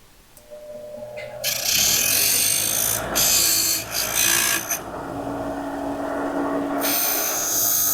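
An old bandsaw cuts a floor-mounted shifter plate to fit the floorboard of a 1985 D-150 truck. A faint whine rises into a loud, sustained rasping cut that dips briefly midway and then steadies. No talking.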